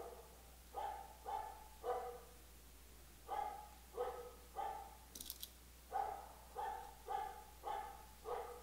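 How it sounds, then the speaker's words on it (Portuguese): A dog barks repeatedly in the distance, around a dozen clear barks in loose groups of two and three, with a brief metallic snip partway through and a faint low hum underneath. "Tem um cachorro latindo aqui."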